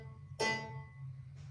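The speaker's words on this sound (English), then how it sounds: "without the pedal, the piano sounds like this." A piano played without the sustain pedal: a bright note strikes and fades quickly, followed by a fainter second note, heard alone and clearly.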